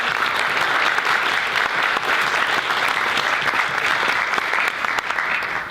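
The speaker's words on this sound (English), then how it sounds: "we just need to give one more round of applause for our excellent panelists" A seminar audience gives a closing round of applause for the panelists, a dense, sustained burst of many hands clapping at constant loudness that tapers slightly at the very end.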